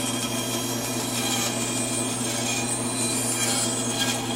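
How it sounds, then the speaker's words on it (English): A woodworking bandsaw cuts slowly through wood along a marked line, a steady, continuous rasping hum over a low motor drone, even and unbroken, with no talking. "Okay, so we're slowly moving forward, but moving the end back and forth to follow our line."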